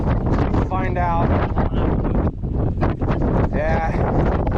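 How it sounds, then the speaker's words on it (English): Strong wind gusts across an outdoor lot of old parts cars such as Ford Broncos, roaring steadily and buffeting the microphone for the whole stretch, with faint voice-like sounds mixed into the rush. "Man, that wind's really picking up."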